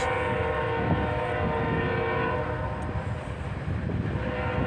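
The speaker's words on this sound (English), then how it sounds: "There goes that train." A train rumbles past nearby with a steady loud roar and a sounding horn, continuous throughout.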